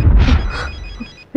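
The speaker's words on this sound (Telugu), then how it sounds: "రింగ్ అవుతుంది." A telephone rings in a film scene, a repeated electronic trill in short bursts at moderate loudness, with a louder abrupt sound breaking in at the very end.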